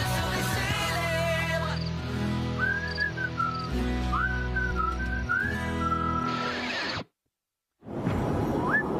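A person whistles a cheerful, wandering tune in clear sliding notes over soft background music, moderately close, before a short silence and a final whistled note.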